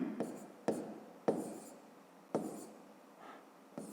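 A pen or chalk writes numbers for column subtraction in a math lesson, producing sharp strokes followed by short scratchy scrawls, several times in a row and close by.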